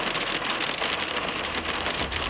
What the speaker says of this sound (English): Being in a car in a hailstorm is like nothing else.